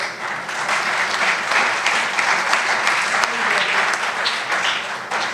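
Audience applause fills a book launch ceremony for Bikhray Khawab at Tea House, a sustained, dense clapping from a room of people that stays fairly loud and even throughout.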